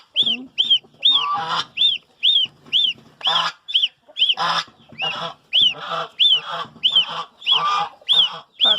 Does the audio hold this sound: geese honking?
yes